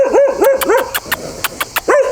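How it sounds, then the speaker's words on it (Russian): A dog barks near a narrow-gauge railway site in Gelendzhik, giving a run of about eight sharp, loud barks close by. Some are quick clipped yaps and others have a rising, whiny tone. "Вот он лает."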